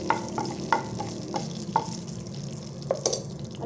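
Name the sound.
bay leaves frying in hot oil in a kadai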